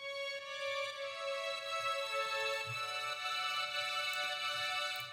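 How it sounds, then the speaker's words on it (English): A sustained viola line with sostenuto strings holds chords steadily, with a shift in harmony partway through and faint low string movement beneath, playing alone without speech. "There's a viola playing sustained."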